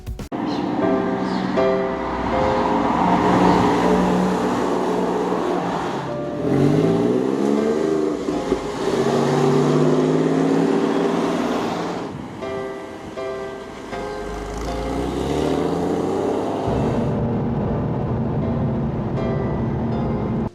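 Porsche 911 Carrera 4 with a water-cooled 3.4-liter flat-six in Need for Speed: Porsche Unleashed, revving loudly through repeated rising gear pulls, falling off between shifts before settling into a steady drone.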